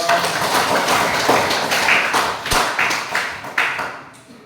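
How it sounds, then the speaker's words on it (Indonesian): A classroom group claps after a group presentation, a steady patter of many hands that swells and fades in short bursts, fairly close, with no voices over it. "Ya, tepuk tangan dulu."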